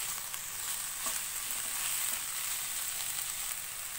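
Vegetables cut lengthwise are stir-fried for Hakka noodles, giving a steady, close hiss and crackle of oil that stays even and loud with no pauses, with no talking.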